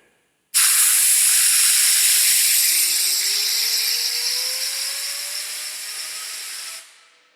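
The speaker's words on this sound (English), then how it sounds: "I'm just going to show you from this angle the turbine wheel spinning." A turbocharger's turbine wheel spins, blowing air: a sudden loud, steady rushing hiss with a faint whistle slowly rising in pitch, easing off slightly before cutting out after about six seconds.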